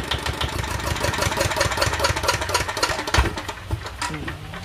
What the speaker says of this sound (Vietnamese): Đó, máy nổ rất là ok.